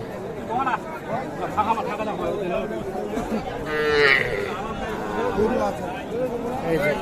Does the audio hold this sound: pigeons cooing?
no